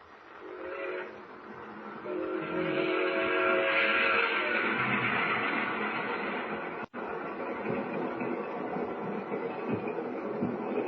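Steady, loud rumble of a train rolling along the tracks in an old Superman radio drama, with a whistle-like tone early on and a brief dropout near the middle. No voices are heard.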